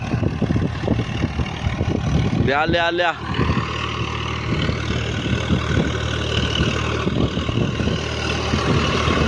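An 855 tractor with an eight-cylinder engine pulls under load, giving a loud, steady, low engine drone throughout. A brief rising and falling tonal whine cuts in around the middle, and voices call out over the noise.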